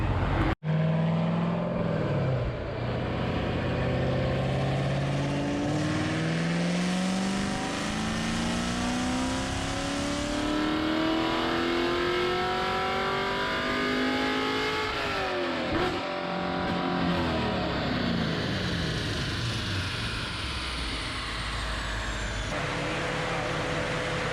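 A car engine roars under sustained full load on a dyno, its pitch climbing steadily for about twenty seconds before cutting off and winding down, loud and close.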